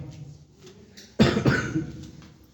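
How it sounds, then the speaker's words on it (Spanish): A single harsh cough bursts out after a quiet moment, followed by a rough, fading throaty tail, close to the microphone. "Les presento excusas por la tos"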